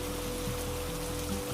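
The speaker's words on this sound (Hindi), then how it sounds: "तेज बारिश शुरू हो गई।" Heavy rain pouring steadily on a rainy night, a dense constant hiss with a low steady hum beneath, close and unbroken, no talk.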